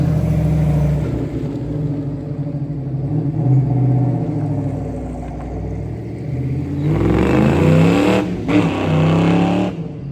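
A 1989 Fox Body Ford Mustang V8 drones steadily while driving, heard from inside or close by, with a deeper, louder surge of throttle in the last few seconds.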